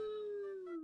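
A human voice imitates a wolf howl: one brief, faint, drawn-out tone that slides slowly downward and then cuts off.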